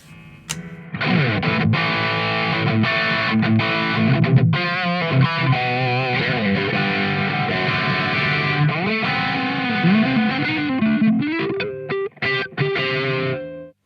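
Electric guitar played through a Boss DS-1 distortion pedal, with continuous crunchy distorted chords and riffs, loud and close with no talking.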